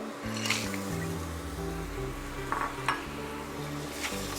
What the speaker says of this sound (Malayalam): ഞണ്ടിട്ട് നന്നായിട്ടൊന്ന് മിക്സ് ചെയ്ത് കൊടുക്കുക.